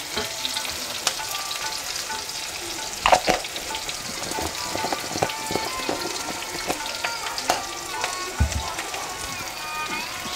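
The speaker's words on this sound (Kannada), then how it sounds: "ಈರುಳ್ಳಿ ಹಾಕಿದ ತಕ್ಷಣ ಸ್ವಲ್ಪ ಉಪ್ಪು ಹಾಕಿ, ಯಾಕಂದರೆ ಈರುಳ್ಳಿ ಬೇಗ ಫ್ರೈ ಆಗುತ್ತೆ" Onions with salt frying in a pan for Karnataka-style methi rice bath: a dense, crackling sizzle with scattered pops and occasional stirring clatters, close and continuous.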